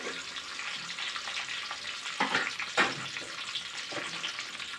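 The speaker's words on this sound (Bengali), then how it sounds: "পেঁয়াজ কুচিটা হালকা একটু তেলের সাথে নাড়াচাড়া করে" Chopped onion sizzling in hot oil with dried red chillies and a bay leaf, a steady bright crackle broken by a few louder spits as the pan is stirred, close and continuous with no talk.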